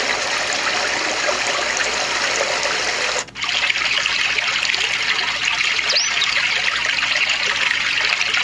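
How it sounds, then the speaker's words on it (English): A white noise machine plays a flowing water nature sound, a steady broadband rush of trickling water that runs throughout with one brief dip partway through, with no talk. "That's our water. That's the nature sound."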